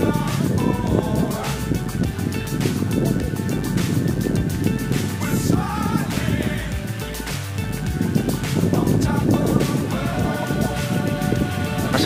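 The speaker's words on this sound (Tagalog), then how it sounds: "Lakas ang hangin." Strong wind rushes and buffets steadily outdoors in rural Mindoro, a continuous broad roar with gusty swells and scattered flutters across the whole stretch.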